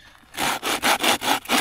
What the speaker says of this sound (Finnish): Toi on hyvä saha toi.